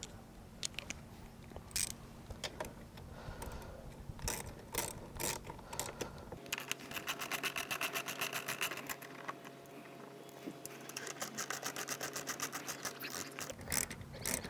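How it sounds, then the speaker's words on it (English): A 10mm socket ratchet clicks rapidly and repeatedly as bolts are removed from the gas tank and side fenders of a Kawasaki KFX 450R ATV, in close, steady bursts. "This is a 10mm socket that you will need to remove the bolts on the gas tank and on the side fairing"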